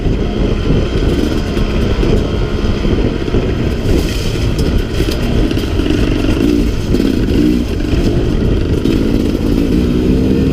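A Sherco 300 SE-R dirt bike engine droning steadily and loud while riding switchbacks, with clattering and wind buffeting the microphone throughout and no speech.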